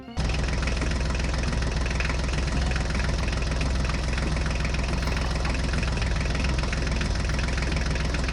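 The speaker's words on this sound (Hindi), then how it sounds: "देखो देखो, हमारे राजू का ट्रैक्टर तो यहाँ खड़ा हुआ है।" A tractor engine idles steadily and loudly, a low rumbling drone with a faint knocking rhythm and no voices.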